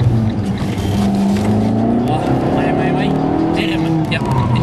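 Rallycross race car at full throttle on a track, engine roaring loud and close with rising revs throughout, while two people talk over the noise inside the car.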